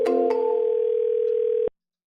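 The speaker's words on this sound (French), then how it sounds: "je peux composer un appel en un clic seulement" A telephone dial tone from a software one-click call, a loud steady electronic hum with a couple of clicks near the start, holding for about a second and a half before cutting off abruptly into silence.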